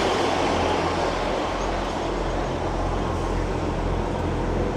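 Former ScotRail diesel train on a Carlisle service, a steady rumbling roar with low engine hum and rail noise, continuous and loud, with no voices.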